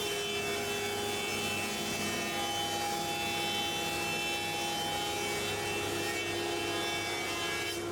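A thicknesser planes a length of timber down a millimetre per pass, giving a loud, steady machine roar with a constant hum and a continuous rasping whine from the cutter block, unbroken for the whole stretch with no talk.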